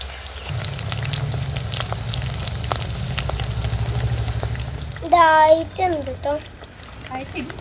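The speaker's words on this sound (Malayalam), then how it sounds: "ഇത്രയും വറുത്തെടുത്തതിന് ശേഷം നമുക്ക് ഒരു ട്രിപ്പ് കൂടിയിട്ട് വറുത്തെടുക്കാം, അല്ലെ സ്റ്റിക്ക് ചെയ്ത് ഇരുന്നു പോകും" Ginger chicken pieces fry in a pan with a loud, steady crackling sizzle, and a voice briefly speaks near the end over it.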